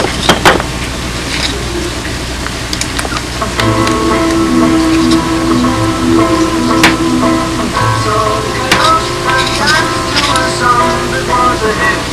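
Steady rain falling outdoors, a continuous hiss with a motor humming through it and a few sharp ticks and tones rising over the wash.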